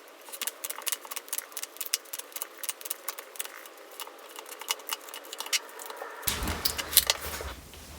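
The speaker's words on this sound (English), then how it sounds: "So let's shuffle the cards and see what comes through." Tarot cards are shuffled in a steady stream of quick riffling taps and flutters, close and fairly soft, with a low hum entering near the end.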